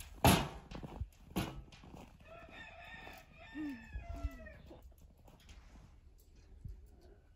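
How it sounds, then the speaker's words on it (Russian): A rooster crows at a distance in the snowy winter village of Zagarino, a faint drawn-out call, with a few knocks and thumps nearby and quiet surroundings. "Вот так Тимур петух кричит."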